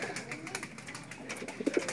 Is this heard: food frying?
no